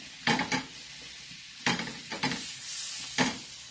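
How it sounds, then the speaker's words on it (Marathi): Pav bread rolls toasting on a hot pan: soft sizzling under several bursts of scraping and shuffling as the rolls are pressed and moved, close and clear, with no voices. "पाव भाजून घेऊया आपण"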